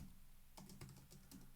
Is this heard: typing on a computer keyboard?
yes